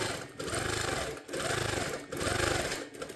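A sewing machine stitches zigzag quilting through a blanket backing in three quick, rapid-fire bursts of needle clatter separated by brief pauses, close and moderately quiet.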